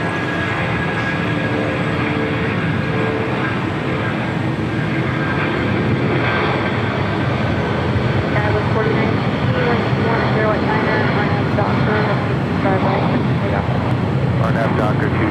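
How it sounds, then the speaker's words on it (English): A United Boeing 757-200 rolls down runway 25 right at LAX on its takeoff run, a loud, steady engine roar with broadband rumble, heard under airband radio talk. "we do have that United 757-200 now rolling down 25 right"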